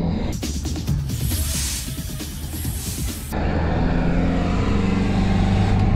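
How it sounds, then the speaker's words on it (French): An Opel Zafira accelerates onto the autobahn, a steady interior engine drone and road rumble under loud broadband wind and tyre noise that thins out halfway through. "Bon là on va monter sur l'autobahn, on va faire une petite accélération quand même."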